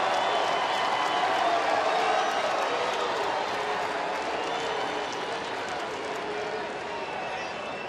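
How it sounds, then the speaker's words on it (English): Large baseball crowd at a Red Sox at Colorado Rockies game in Denver, September 2013, booing David Ortiz: a steady, dense wash of crowd noise that holds at an even, loud level throughout, without clear breaks. "Folks were booing David Ortiz."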